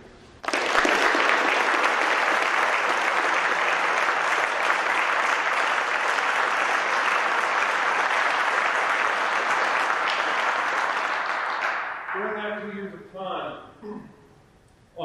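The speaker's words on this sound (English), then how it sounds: "take a minute to not only give them a welcome home applause" Sustained audience applause fills a military change of command ceremony for the 1st Battalion, 168th General Support Aviation, a steady wash of clapping lasting about twelve seconds before fading as a voice begins speaking.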